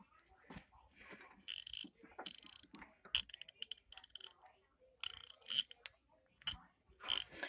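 A freshly lubricated ratchet wrench clicking in bursts, quick runs of close, crisp pawl ticks separated by short pauses, with no talking over it.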